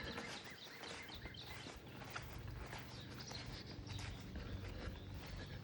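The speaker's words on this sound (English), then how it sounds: "So the birds are singing and it's a nice cool morning." Birds sing on a cool morning around an apiary with an asparagus patch, scattered chirps and calls rising over a low outdoor background, faint and fairly distant, with soft footsteps underneath.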